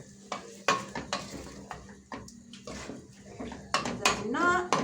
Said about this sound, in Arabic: نخلط كلش مع بعض